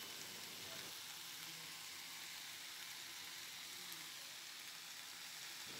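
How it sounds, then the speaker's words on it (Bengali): Potatoes and ivy gourd fry together in a pan for a Bengali fish thali, giving a steady, close sizzle and crackle that runs unbroken for the whole stretch with no voices. "আলু আর কুঁদরি একসাথে ভালো করে ভাজতে হবে"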